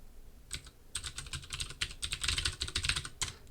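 Rapid, steady clatter of keys on a computer keyboard as a password is entered during a computer science lecture, close and continuous for a few seconds with no talk.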